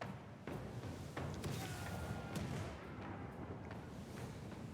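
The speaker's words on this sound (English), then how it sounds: "Fire port cannons." Ship cannons fire a broadside during a naval battle in Pillars of Eternity II: Deadfire, a few dull booms in quick succession over a steady low rumble.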